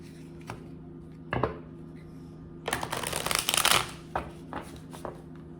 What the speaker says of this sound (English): Now we're gonna pull a card from the Rebel deck for each sign.